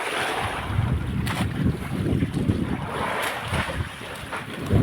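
A small fishing boat, loaded heavily, runs over rough sea in strong northeast monsoon wind, with steady broadband wind rush and water wash, gusty buffeting on the microphone and a louder surge at the end; no one speaks.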